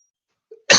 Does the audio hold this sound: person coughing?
yes